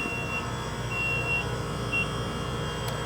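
An ice cream maker churning coconut ice cream gives a few thin, high beeps of different lengths over its steady motor hum.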